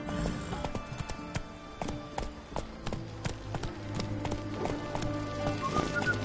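Roach, a horse in a PS4 video game, gallops with a rapid, continuous clip-clop of hooves, close and fairly loud over a low game soundscape.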